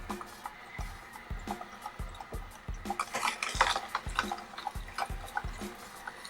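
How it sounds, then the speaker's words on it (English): A slow juicer grinds steadily with regular crunching thumps as vegetables are crushed, close and moderately loud, no talking. "Most of the noise is really from the crushing of the vegetables."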